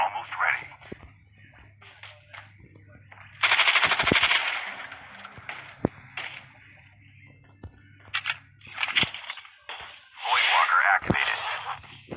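Rapid machine gun bursts in Call of Duty gameplay, with a sustained loud volley in the middle and another near the end, separated by quieter stretches with scattered shots and faint voice or radio chatter.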